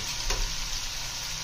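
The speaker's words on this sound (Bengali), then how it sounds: "তেল দিয়ে দিলাম, গরম মশলা ফোড়নে দিয়ে দেবো। একটা শুকনো লঙ্কাও দিয়ে দিলাম।" Whole garam masala and a dried red chilli crackle in hot oil, a steady, close, broadband sizzle with a brief spit of popping near the start and no talking.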